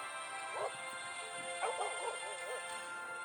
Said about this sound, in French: Gentil chien.